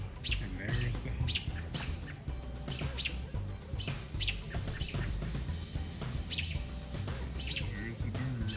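Small birds call and scream in repeated sharp chirps and squawks, mobbing a perched hawk near a house, fairly close and continuous with no talk.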